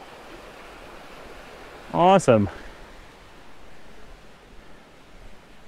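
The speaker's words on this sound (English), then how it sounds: "Got the sound of running water here." Steady broadband rush of running water at a park in San José, Costa Rica, fills the background throughout, with a person briefly speaking over it partway through.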